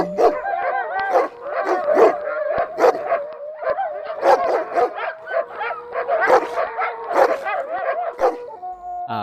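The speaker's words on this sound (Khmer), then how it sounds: "អ្នកណាមករកអីឆ្កែព្រុសលាន់ពេញមុខផ្ទះ" A dog barks in front of a house, a close, loud run of repeated barks and yelping howls that carries on for several seconds with short gaps.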